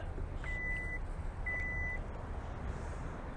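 Two short, evenly spaced electronic warning beeps from the rear liftgate of a 2022 Hyundai Palisade Limited as it closes, heard over a steady low background rumble.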